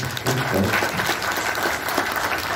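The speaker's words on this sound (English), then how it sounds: "Great applause. It was a wonderful applause." Audience at a Star Trek convention panel at WonderFest 2022 applauding, a dense burst of many hands clapping throughout the short stretch.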